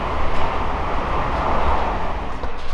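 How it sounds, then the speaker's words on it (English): A train passes nearby as a continuous loud rumbling roar that holds steady throughout, with no talking over it. "Fucking trains."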